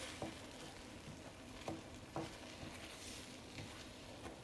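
Quiet sizzling in a frying pan with occasional soft scrapes and taps of a utensil stirring the food.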